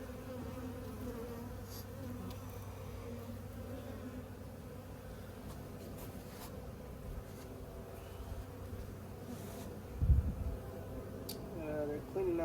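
Honey bees hum steadily inside an open beehive, a continuous low drone with faint talk and handling noises over it and a brief knock near the end.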